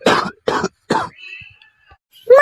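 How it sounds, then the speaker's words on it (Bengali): An animated father character in a Bangla comedy cartoon coughs three times, each a short harsh burst, followed by faint throat noises and a brief voice at the end. "মা বাবার কাশিটা আবার বাড়ছে দিন দিন"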